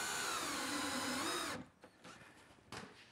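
A power drill drives screws into an MDF tool stand top, with a steady whirring run of about a second and a half, then a pause and faint handling knocks.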